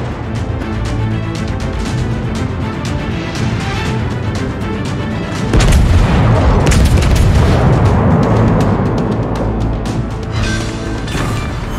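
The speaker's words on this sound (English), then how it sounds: "Enemy battleship sunk." In a naval video game, a battleship sinks with a heavy explosion: a deep boom erupts midway through steady battle noise and then swells into a long, rumbling roar that slowly fades.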